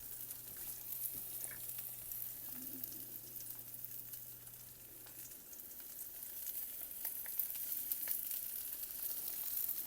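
Rice-coated trout fillet sears in hot oil in a pan, a soft steady sizzle with scattered pops and crackles, fairly quiet and unbroken.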